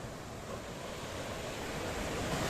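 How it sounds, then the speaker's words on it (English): Mediterranean Sea waves lap and crash on the sandy shoreline of downtown Paphos, Cyprus, making a steady, broad wash of surf that slowly builds in loudness with no voices present. "That's the blue Mediterranean Sea. It's a licking and lapping. In fact, it's a little bit crashy today on the shoreline of downtown Paphos."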